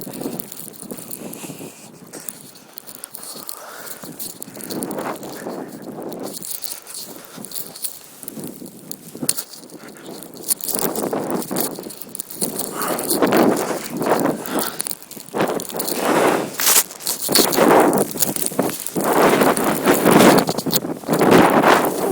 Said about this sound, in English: 50-mile-an-hour winds.